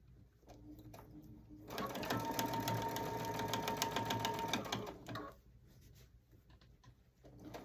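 A sewing machine stitches through a foam dish drying mat in one steady, fast mechanical chatter that runs for several seconds, with quieter handling noises before and after.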